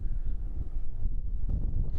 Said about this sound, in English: This wind really isn't pleasant.